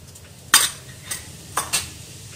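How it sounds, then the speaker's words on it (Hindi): Cumin seeds hitting hot oil in a kadhai, with a couple of sharp metallic clinks of a spoon against the pan over a faint background sizzle. "कढ़ाई में तेल गर्म हो गया है अब मैं डाल रही हूँ उसमें जीरा"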